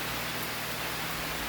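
Steady rain, a dense, even hiss of falling water with no breaks, fairly loud and close, with no other sounds.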